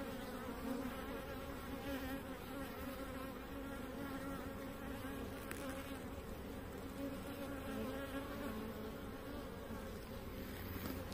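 Honeybees buzzing around an opened hive, a dense, steady drone of many insects close by, continuous and even in loudness with no talking.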